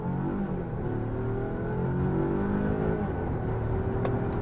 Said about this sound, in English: Let's just mash the gas here.